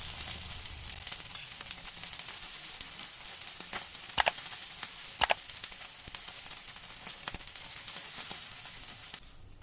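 Meatballs sizzle quietly in a hot pan, a steady hiss of frying broken by a few sharp pops and crackles.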